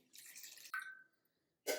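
A brief pour of water into a pan for lime juice syrup with sugar, a short splashy trickle followed by a thin ringing drip, then quiet and another quick splash at the end.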